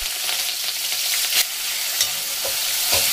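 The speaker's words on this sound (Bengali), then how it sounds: "এখন দিয়ে দিচ্ছি একটু পেঁয়াজ।" Chopped onion fries in a pan with a bright, close sizzle, and a utensil scrapes and taps the pan in short bursts; no voices are heard.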